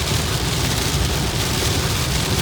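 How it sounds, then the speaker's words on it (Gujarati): Heavy rain drums on a moving car, a dense, loud and unbroken roar of water striking the roof and windshield while driving. "ભાઈ, ફૂલ વરસાદ, એકદમ ખતરનાક વરસાદ"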